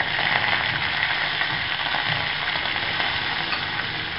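Mustard seeds and curry leaves sizzle in hot oil while a batata vada filling is being cooked, producing a loud, close, steady crackling hiss with no talking.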